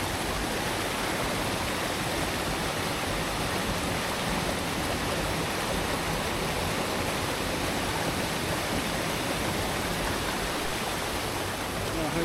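A jungle river on the Dilushan Trail rushes in a dense, steady broadband wash, close and loud throughout without pause.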